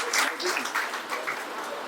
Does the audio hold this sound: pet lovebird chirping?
no